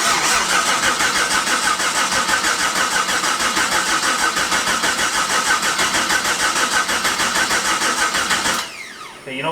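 A car engine cranks on the starter during its first start attempt, a loud steady churning that runs continuously for about nine seconds before cutting off abruptly, with no voices.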